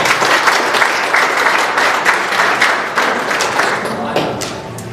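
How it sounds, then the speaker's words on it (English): A crowd claps steadily at a college athletic hall of fame induction, honoring athletic department staff and coaches; the applause is loud and sustained, easing off slightly toward the end. "Again, big round of applause for our awesome athletic department staff and coaches."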